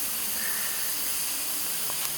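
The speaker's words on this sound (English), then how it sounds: "there's a little sizzle there from the safety valve" Steam hisses steadily from the safety valve of a restored Mamod SA1 steam car, a close, bright sizzle that holds evenly throughout with no voices over it.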